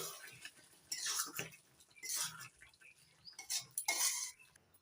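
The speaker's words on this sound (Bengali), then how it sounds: "একটু নাড়াচাড়া করে মিশিয়ে নিচ্ছি" Spoon stirring and scraping through potol korma curry in a pan after garam masala and ghee go in, a few bursts of clinking and scraping near and moderately loud, with no talk.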